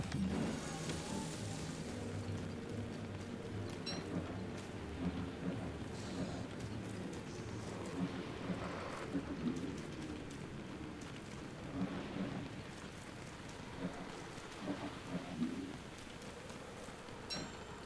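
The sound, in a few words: rain and thunder in video game Don't Starve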